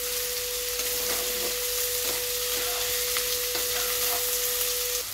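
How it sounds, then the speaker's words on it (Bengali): Green jackfruit, shrimp and potatoes fry together in a pan, giving a continuous close sizzle with scattered soft scrapes and pops from stirring. "এবারে আমি আলু সহকারে সবগুলোকে ভাজা করে নিচ্ছি।"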